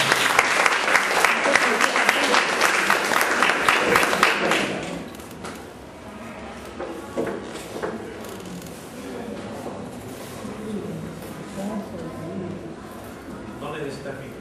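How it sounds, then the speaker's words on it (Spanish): Loud audience applause from a crowd at a live event, dense clapping for about five seconds, then fading into scattered claps and murmuring crowd noise. "pido un fuerte aplauso para mi amigo Edín Vilchas"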